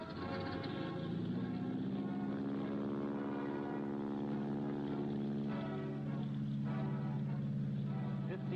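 A steady propeller engine drone from a biplane, with a strong low hum and a slight pitch rise, continuous and loud throughout.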